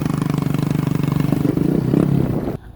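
Motorcycle riding on a road in warm weather, a close steady engine putter with a rapid pulsing beat and slight revving, heard from the rider's position, then cutting off abruptly near the end.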